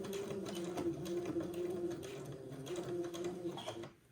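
Sewing machine stitching back and forth a few times to tack elastic in place: a continuous close mechanical whir with a rapid needle clatter, running steadily before stopping.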